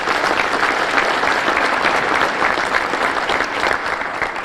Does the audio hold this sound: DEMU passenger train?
no